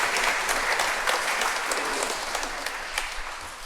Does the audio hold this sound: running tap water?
no